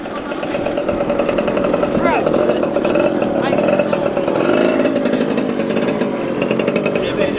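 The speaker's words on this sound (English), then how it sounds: "I can hear some scooters coming," Small engines buzz steadily at a classic car show, a scooter's whine rising and wavering as it draws closer, with voices faintly under the noise.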